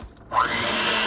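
An electric mixer creams softened butter and sugar together in a bowl, starting abruptly after a brief quiet moment into a steady, close whirring drone.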